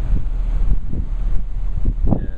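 Strong wind buffets the microphone outdoors by a bluff, a constant low rumble with repeated gusty thumps, no voices.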